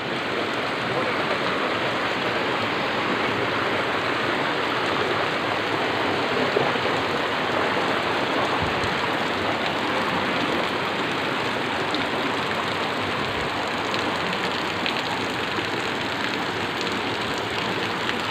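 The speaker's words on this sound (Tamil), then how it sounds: "தண்ணி சிவன்லேருந்து மேலேருந்து ஊற்றுது." Water pours down over a Shiva statue at a Hindu temple on the Karak Highway, a dense, continuous rushing splash that stays loud and even throughout.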